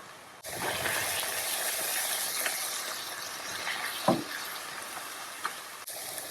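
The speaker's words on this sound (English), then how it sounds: "After that's been frying for a few minutes" A chicken rezala curry base of spices, ketchup, puree and prunes fries in a pan with a steady, soft sizzling hiss and an occasional stir or bump, fairly quiet and close.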